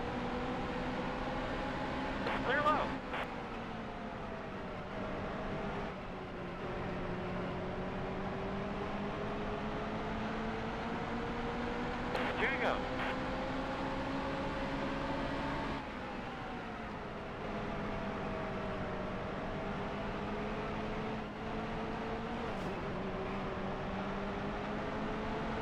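Race car engine in the NASCAR Heat Evolution video game drones steadily as the car rolls around the track, a continuous held tone with slight pitch shifts and brief dips, loud and alone with no talk.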